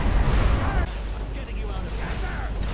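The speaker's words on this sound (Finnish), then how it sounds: "Ampu noi tulipalloja." Fireballs strike a dragon in the video game Skyrim, giving a deep rumbling blast at the start that settles into a lower, noisy rumble with scattered crackle.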